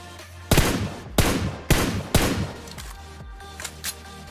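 Red dot tap-fire gunshots in the video game PUBG Mobile at long range: four loud, sharp reports spaced roughly half a second apart, followed by two fainter distant shots.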